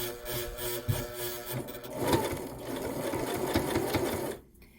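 A sewing machine stitches bias fabric binding around the rounded edge of a patchwork heart, a steady close mechanical whir with rapid needle clatter that runs for several seconds before stopping abruptly.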